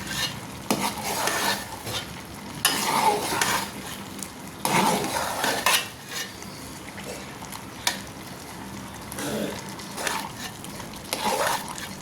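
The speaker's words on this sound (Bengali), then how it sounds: "লাউ আর ডালটা এখন ভালো করে কষিয়ে নেব।" Bottle gourd and lentils frying in a pan are stirred steadily, with repeated scraping strokes of a utensil against the pan over a continuous sizzle, close and moderately loud, with no talking.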